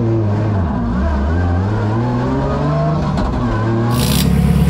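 A race car on track slowly warming its tyres, its engine droning steadily and shifting pitch throughout, close and loud with no talk over it.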